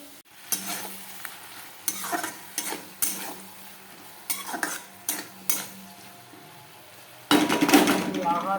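Fish frying in a pan gives a low background sizzle beneath a series of sharp metal clinks and scrapes from a utensil against the pan, ending in a louder burst of sizzling.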